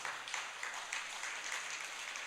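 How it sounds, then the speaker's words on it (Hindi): Audience at a Jain religious discourse claps for the microphone operator, a faint, distant wash of applause with soft rhythmic pulses, brief and low in level. "आज माइक वाले को जोरदार तरीके की तालियां बजा दो"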